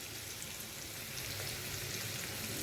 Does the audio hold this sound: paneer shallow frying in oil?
yes